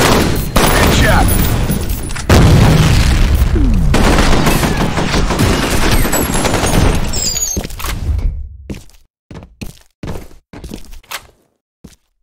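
Dense, loud gunfire and blasts from the shooter video game F.E.A.R. fill most of the clip, then thin out into scattered sharp shots and thuds separated by silence, with some in-game voices mixed in.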